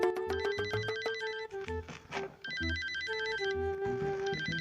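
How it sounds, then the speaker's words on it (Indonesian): A phone ringtone plays a loud, repeating electronic melody up close, with brief gaps between phrases and no one talking over it. "Kita dulu ya, mau angkat telepon dulu."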